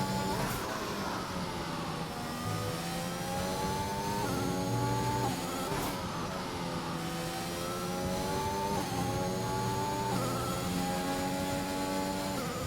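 An F1 car entering the pits in an F1 video game race in Austria, a high engine whine rising and falling through gear changes, steady and fairly loud with no voices.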